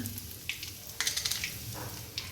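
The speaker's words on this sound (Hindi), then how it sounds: "रख दिया कढ़ाई में मैंने ऑयल, तो डाल दिया इसमें जीरा और डाल दूँगी अब इसमें हींग" Cumin seeds and asafoetida sizzle in hot oil in a wok, making a soft, steady crackle with a few brief spattering bursts. The sound is faint and comes with no talk.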